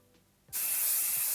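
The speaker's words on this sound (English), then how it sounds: "Now I'm gonna spray it with some hairspray." A single burst of hairspray from an aerosol can, aimed at styled beach-wave hair, a sharp close hiss lasting under a second that cuts off abruptly.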